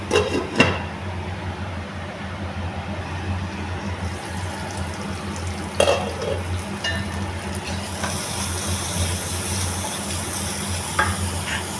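Egg gravy simmering and sizzling in oil in a pan, a loud continuous frying hiss with a few knocks from a utensil, and no one talking.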